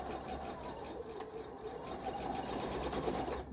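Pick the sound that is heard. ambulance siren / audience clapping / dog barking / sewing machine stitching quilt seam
sewing machine stitching quilt seam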